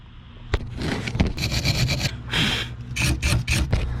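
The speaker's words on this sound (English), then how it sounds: "Let's get a wire brush, let's get that Torx bit cleaned" A wire brush scrubs a worn Torx bit during a fuel filter job on a B6 Audi S4, making harsh, irregular scraping and rasping strokes with short bursts and pauses, close and fairly loud.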